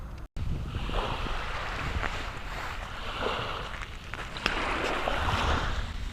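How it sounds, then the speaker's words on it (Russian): Sea surf on a foggy coast, a continuous broad rush of waves and wind noise with gentle swells in loudness and one brief dropout near the start. "вот я уже слышу прибой"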